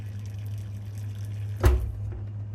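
A hotel room tap in the Philippines runs in a low steady stream, and a sharp splash or gush briefly swells partway through before settling again, with no talking.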